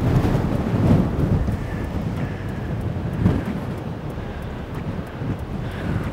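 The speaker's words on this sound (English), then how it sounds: "Wow, that wind is so strong." Strong wind buffets the microphone on a golf course, a constant loud rumbling roar with gusts swelling and easing, with no voices over it.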